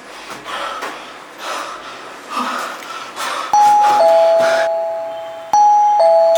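An electronic doorbell rings twice, loud and close, each ring a clear two-tone chime. Soft breathing and movement come before it.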